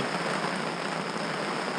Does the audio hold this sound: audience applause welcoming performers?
no